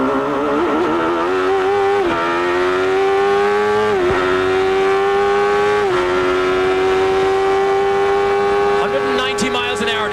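Bobby Rahal's CART race car at Mid-Ohio in 1993, heard onboard through the keyhole: a loud, close engine howl rising steadily, with sharp upshifts from second to third gear in a six-speed gearbox breaking the pitch every couple of seconds.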